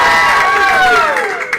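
A live comedy show audience bursts into loud, close cheering and shouting to award points, a dense crowd roar that swells and then fades slightly within a moment.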